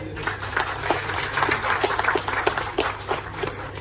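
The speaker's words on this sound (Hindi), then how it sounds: "जो जाने वालों के लिए एक बार तालियां बजाती हैं" An audience claps together in a steady, moderately loud round of applause that holds for several seconds, with individual claps blending into a continuous patter at a business delegates' send-off event.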